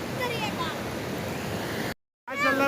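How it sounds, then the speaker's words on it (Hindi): A fast, very cold mountain stream (nala) rushes in Gilgit-Baltistan, a dense steady hiss of water close by, briefly cut off by a moment of silence, with someone talking over it. "ये आप क्लियरली देख सकते हैं मेरे पीछे, ये पानी ही पानी है, बहुत तेज नाला है"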